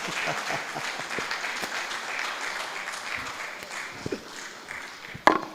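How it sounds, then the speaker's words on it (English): Applause from a lecture audience for a guest speaker at an annual lecture, a steady wash of many hands clapping throughout, with a sharper loud clap near the end. "Please, a round of applause for Alex"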